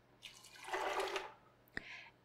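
Cup of water poured over cashews in a blender jar, a short close gurgling splash swelling and fading, then a single sharp knock and a brief trickle.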